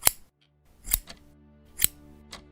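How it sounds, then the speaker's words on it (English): Sharp metallic scissor snips from a radio drama sound effect, three or four distinct crisp cuts spaced about a second apart, close and isolated with brief silences between. "Harold, put down those scissors"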